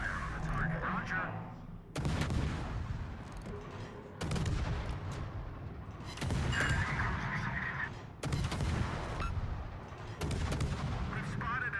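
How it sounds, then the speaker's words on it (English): Naval artillery fire from the World of Warships game comes in five heavy booming salvos about two seconds apart, each ringing out loudly and rolling away over a steady hum of engine and water. "All stations, concentrate fire on the target."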